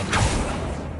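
An Accio summoning spell cast in the video game Hogwarts Legacy: a quick, close, airy magical whoosh with a low thud at its start, fading over about a second.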